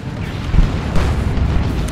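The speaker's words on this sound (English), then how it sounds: "But another shot from that cannon goes in." A Looted Tank cannon in the game Dawn of War II: Retribution fires with a deep, rumbling boom, and a low, booming battle rumble continues around it.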